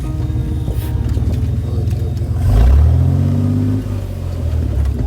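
A jeep drives along a rough dirt track toward Knidos on the Aegean coast of Turkey, its engine droning steadily up close, swelling and revving harder midway as gravel and bumps scrape beneath it.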